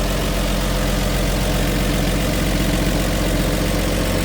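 A 1962 Ford Galaxie 500 convertible's inline six-cylinder engine with a two-barrel carburetor idling with the hood open, a steady, even, close mechanical hum and rumble without pause; no talking.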